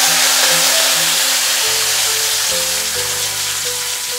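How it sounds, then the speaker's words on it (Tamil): Loud, steady sizzling hiss of chopped onions frying in a pan for a Tamil potato fry, continuous throughout, with soft tonal music playing underneath. "நல்லா வதக்கி விடலாம்."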